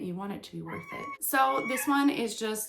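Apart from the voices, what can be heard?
cat meowing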